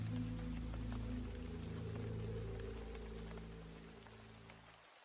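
Steady rain falling over Porto Alegre at night, a dense continuous patter with a low rumbling undertone that slowly fades toward the end, with no voices.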